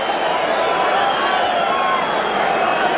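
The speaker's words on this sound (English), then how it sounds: "The crowd, happily well-controlled, reasonably well-behaved, waits for referee Dennis Turner of Cannock to get it underway" Steady crowd noise fills a football stadium before kick-off at Shepherd's Bush in a 1975/76 QPR versus Manchester United match, a continuous loud broadband murmur of thousands of fans with no distinct cheers.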